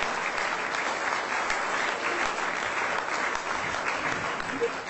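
Steady, fairly distant applause from a corporate excellence awards audience greeting a business group's CEO, continuous clapping throughout with no talk over it.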